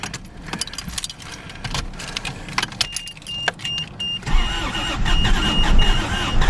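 A 1983 vehicle's engine cranks repeatedly without catching on a cold morning, the starter grinding in uneven bursts at close range, growing louder and rougher toward the end.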